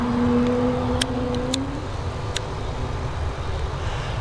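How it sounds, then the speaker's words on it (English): An Airbus A220 jet starts its departure roll at Dublin Airport on runway 10R, a steady broad engine roar heard from outside with a rising whine that fades, plus a few sharp chirps over it. "Here we go, this A220 thinking about departing. She is going now."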